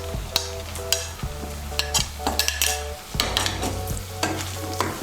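Chopped cauliflower florets are added to a frying pan and stirred, giving a soft sizzle under the scrape and clink of a utensil against the pan, with irregular stirring strokes and no speech.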